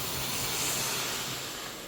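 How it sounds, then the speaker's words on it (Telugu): Green chillies and onions, split lengthwise, fry in a wide pan for millet noodles, giving a steady close hiss that thins a little toward the end, with no talk. "ఫ్రై చేసుకుంటున్నాను ఫస్ట్."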